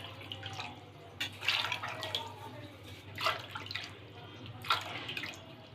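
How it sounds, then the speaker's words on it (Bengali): Water is poured into a bowl of mango and sago paste, a faint trickling splash in short bursts over a low background hum. "এখন আরও 5 বাটি জল দিয়ে দিব।"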